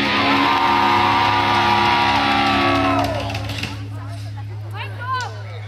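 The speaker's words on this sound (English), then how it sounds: "Scream for me!" A festival crowd screaming at a live rock concert on a riverside stage, a loud sustained roar of many voices that fades to scattered whoops and cheers, with amplified hum underneath.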